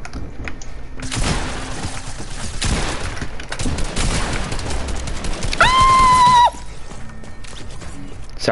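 Rapid video game gunfire rattling in dense bursts, loud and close, with a sustained high-pitched tone sounding briefly near the end over a noisy background.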